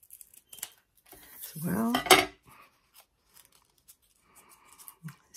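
Scissors snip through paper being cut in half for handmade paper flowers: scattered small clicks and snips, with a short stretch of someone talking in the middle.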